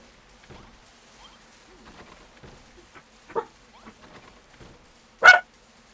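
A dog barks a few times indoors on a building site, with two sharp, loud barks standing out against quieter background noises.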